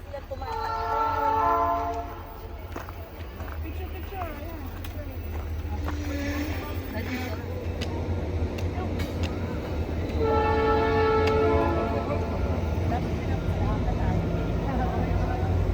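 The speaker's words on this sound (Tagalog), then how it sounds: "naabutan kami ng train. 1 oras ito ang maghihintay. Mahaba tong train na ito eh" A long train rolls past a road crossing in British Columbia with a steady, heavy rumble of wheels and cars, while loud horn blasts sound twice and people talk nearby.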